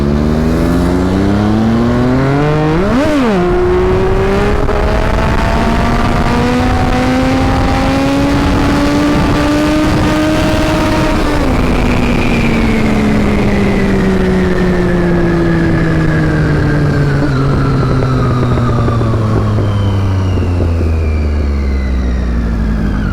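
Superbike fitted with an aftermarket exhaust revving hard and loud, its engine pitch climbing sharply, then rising steadily before falling away in a long, smooth decline, with no voices.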